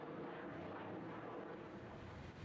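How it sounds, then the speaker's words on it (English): Aircraft engine noise at Miami's busy cargo airport forms a steady, broad roar, even and continuous throughout, with no voices. "planes coming and going with all kinds of cargo"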